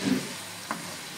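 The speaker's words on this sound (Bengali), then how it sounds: "তো সব কিছু দেওয়ার পরে আমি এবার এটাকে নাড়বো।" Vegetables with salt are stirred in a pan, giving a faint, steady sizzle and one quick scrape of the spoon midway.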